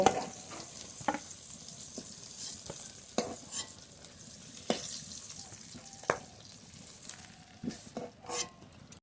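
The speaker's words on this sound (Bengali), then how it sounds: "পটল হাল আস্তে আস্তে জাল দিয়ে খুব ভালো করে ভেজে নিয়েছি" Pointed gourd (potol) frying slowly in oil over low heat, giving a steady soft sizzle with repeated stirring clicks and scrapes of a utensil throughout, close and fairly quiet, no voices.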